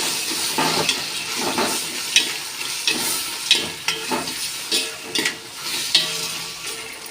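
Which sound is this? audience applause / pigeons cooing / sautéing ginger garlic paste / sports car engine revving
sautéing ginger garlic paste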